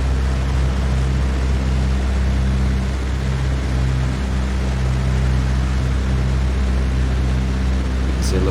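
A single-engine aircraft engine in the Prepar3D flight simulator, revved up to 1800 rpm for a mag check, holds a steady, loud, continuous droning hum with low tonal bands throughout.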